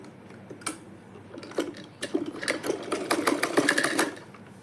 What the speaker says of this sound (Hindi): इसको हम इस साइड भी सिलाई कर लेंगे।